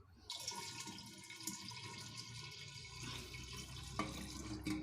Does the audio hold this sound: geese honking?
no